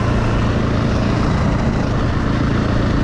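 A 2014 KTM EXC 450 Six Days Argentina enduro motorcycle running flat out at top speed, a loud, continuous engine roar mixed with wind rush, dense and sustained from start to finish, no voices.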